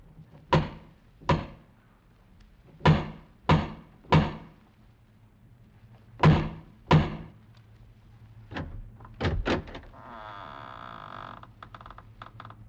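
Heavy knocks on a massive wooden door in a radio drama, several loud separate thuds in uneven groups, then a rattling creak as the door is handled, heard alone with no talk.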